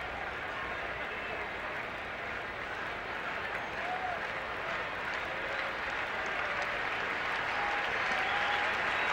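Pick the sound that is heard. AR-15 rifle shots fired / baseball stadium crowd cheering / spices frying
baseball stadium crowd cheering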